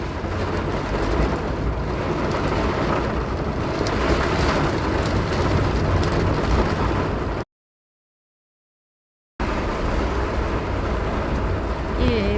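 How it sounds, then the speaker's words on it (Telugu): Heavy rain roars as a dense, steady hiss, cutting out abruptly to silence for a few seconds before resuming just as loud. "ఇక్కడ వర్షం పడుతుంది బాగా"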